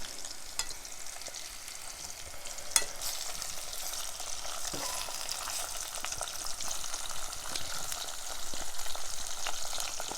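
Plantains sizzle and fry in a pan outdoors while being stirred, a steady, close hiss running throughout with occasional scrapes and small pops.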